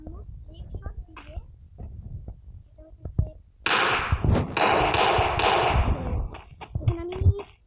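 Bursts of automatic gunfire from the Free Fire mobile battle game crackle in quick volleys, with a sustained loud burst midway and scattered shots around it, while a player talks over the action.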